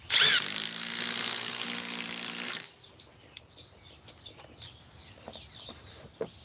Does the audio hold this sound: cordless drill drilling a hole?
yes